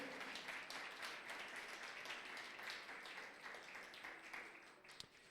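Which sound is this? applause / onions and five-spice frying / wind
applause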